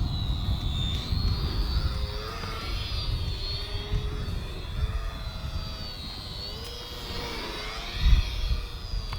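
XK A210 Trojan RC warbird airplane flying in the wind, a steady whining electric motor with pitch that rises and falls as it passes near, over constant rumbling wind noise.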